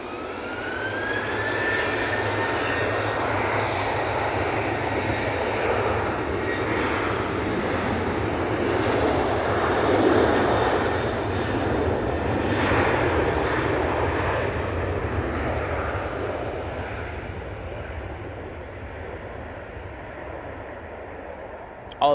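A plane comes in to land at Manchester Airport, its jet roar building, swelling near the middle and slowly fading, steady and fairly close, with a voice talking beneath it at times.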